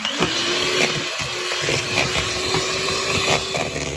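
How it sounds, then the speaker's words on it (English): An electric hand mixer whirs steadily as it beats two eggs for banana bread, a continuous motor drone with slight shifts in pitch as the beaters move through the bowl, close and fairly loud with no talking. "I'm going to use the mixer."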